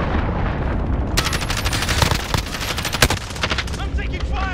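Rapid automatic gunfire and single shots crackle close and loud in a modern warfare shooter game, dense bursts running nearly continuously with a few sharper blasts.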